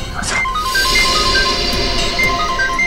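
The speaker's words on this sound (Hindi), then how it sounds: "फोन अभी भी बज रहा है।" A phone ringtone in a hospital repeats short, bright electronic beeps in a regular pattern, sounding over a dense, noisy background.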